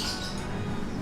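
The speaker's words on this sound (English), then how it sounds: "We do have some birds in the background, so apologies about the noise there." Harsh bird squawks run through the background at a goldfish show in Bangkok, fairly loud and continuous throughout, with no speech.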